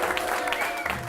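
A crowd applauds a grand prize winner at an Alutiiq community challenge, a brief, steady patter of clapping with a voice faintly over it.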